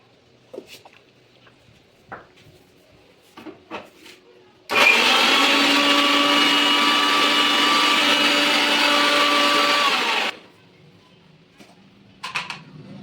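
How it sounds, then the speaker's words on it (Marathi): A mixer grinder whirs loudly for about six seconds, a steady high-pitched motor drone, framed by quiet clicks and handling sounds before and after. "बारीक करून घ्यायची मिक्सरमधून"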